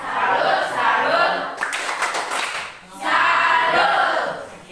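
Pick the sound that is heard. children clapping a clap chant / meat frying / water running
children clapping a clap chant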